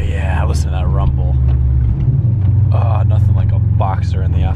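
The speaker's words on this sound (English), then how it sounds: "Listen to that rumble." Low, throbbing boxer engine rumble from a Subaru WRX, steady and close, with people speaking over it.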